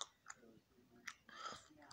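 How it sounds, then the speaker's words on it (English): Gum chewing close to the mouth, a few soft moist clicks and smacks spread irregularly through a short, quiet stretch with no one talking. "Sorry, I'm chewing gum right now."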